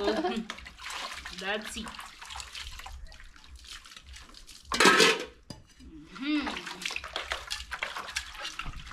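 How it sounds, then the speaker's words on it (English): Dishes, pots and cutlery clink and scrape as they are washed in water in an African village home, with splashing and a louder rinse midway, while people talk briefly nearby. "it look like we are finishing the dishes"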